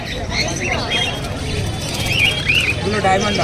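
Diamond doves and other caged birds at the Serampore bird market chirp and tweet in scattered bursts through a busy crowd, with people talking nearby.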